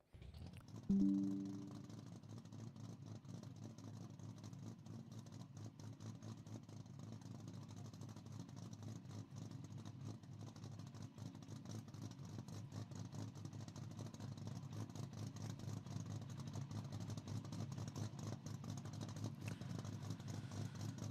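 A car engine in the Assetto Corsa video game during drifting practice, a low, steady droning hum with faint rattling, quiet and continuous throughout with no talk.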